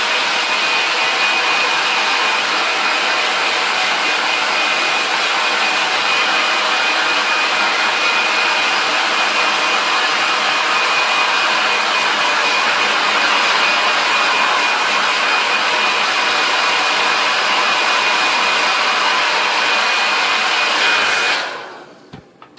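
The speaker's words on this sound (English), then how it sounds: "So go get your hair dryer" Handheld hair dryer blowing on freshly painted character gloves, a loud steady whirring roar with a faint high whine that runs continuously for about twenty seconds before cutting off abruptly.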